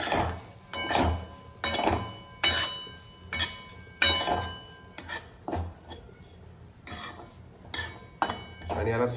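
A spatula scrapes and clinks against a pan as bitter gourd is stirred in plenty of oil, giving repeated rhythmic metallic strokes over a faint sizzle.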